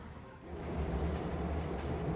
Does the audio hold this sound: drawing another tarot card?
no